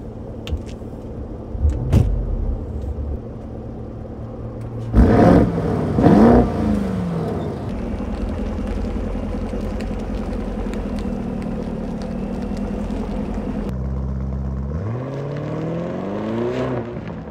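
A 2018 Lamborghini Urus engine idles with a deep, steady rumble, gives a couple of sharp throttle blips, then revs up in a rising sweep near the end. No one speaks.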